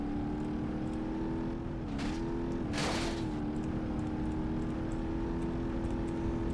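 A Pagani Zonda Roadster driving fast in BeamNG.drive gives a loud, close, steady engine drone, with two short rushing swells in the middle of the run.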